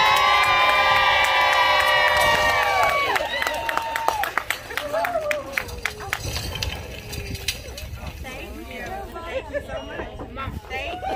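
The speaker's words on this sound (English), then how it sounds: "one more round of applause for Wreck and Release" Grand opening crowd at Wreck & Release erupts in loud cheering, with children shouting and whoops over a dense wall of voices, then eases into rapid clapping and scattered yells, with people talking throughout.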